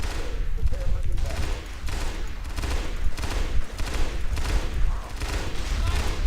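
Dense, continuous gunfire from the Halo video game, rapid bursts and shots layered into a loud, busy battle mix that keeps going without a pause, with a voice talking faintly underneath.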